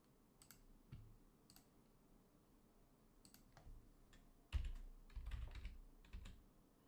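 Keys tapped on a computer keyboard in scattered bursts, quiet and close, with a few heavier clacks near the end over a low room hum.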